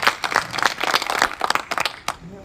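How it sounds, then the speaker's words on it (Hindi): A crowd claps steadily at a havan and puja gathering in memory of a revered saint, with dense, rhythmic applause bursts rising and falling over two and a half seconds and no talk. "अगर भोजन करना है तो ताली पर ठीक से बजाओ"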